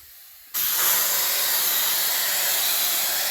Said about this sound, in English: Show you how it sprays with just the regular nozzle tip on it.